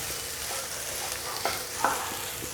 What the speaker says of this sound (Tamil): மிளகாத்தூள், உப்பு, இந்த பூண்டு, கருவேப்பிலெல்லாம் போட்டு ஒரு 5 நிமிஷம் வதக்கினா போதும்